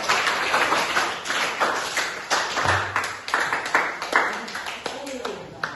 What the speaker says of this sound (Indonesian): kita beri tepuk tangan untuk semuanya